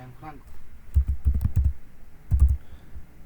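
Typing on a computer keyboard during Windows app coding, a few quick bursts of close, crisp key clicks separated by short pauses, with a brief murmur of a voice at the start.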